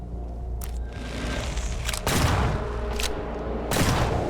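Boomstick shotgun blasts in Mutant Year Zero: Road to Eden, two heavy booming shots a couple of seconds apart over a low game rumble, each with a long decaying tail.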